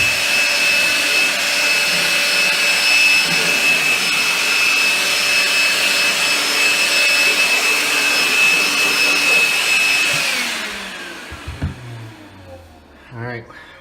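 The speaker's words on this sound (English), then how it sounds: "Runs on the same battery packs, but works pretty good for a little vacuum." A Milwaukee M12 cordless vacuum runs steadily and loudly with a high whine for about ten seconds, then powers down, leaving a few handling knocks near the end.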